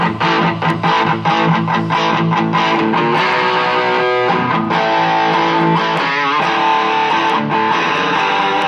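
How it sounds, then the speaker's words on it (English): Electric guitar played through a Rat distortion pedal into a Vox AC10 amp, loud and continuous with dense saturated chords and picked notes throughout, no talking. "Distortion, not sure what this is. A rat."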